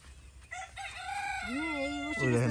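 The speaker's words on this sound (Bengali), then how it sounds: "মুরগি খালি ডাকে" A rooster crows close by in a home garden, a loud rising and falling cock-a-doodle-doo, with shorter clucks and calls from other fowl before it.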